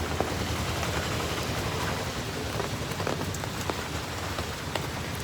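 Steady rain falls in Fort Kochi, a dense, even hiss of drops on surfaces that runs unbroken from start to finish, close and fairly loud, with no voices.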